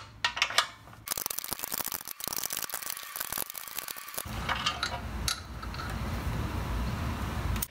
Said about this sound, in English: I'm now going to remove the rear bolt on this tank.